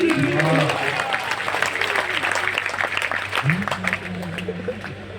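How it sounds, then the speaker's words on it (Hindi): An audience claps steadily at a Hindi poetry gathering (kavi sammelan) in Uttar Pradesh, a dense applause wash with a speaking or singing voice heard over it at the start and again near the end. "थोड़ा तालियों को जब बजाते हैं तो उसे थोड़ा और बजाते रहिए, एकदम मत रुकिए।"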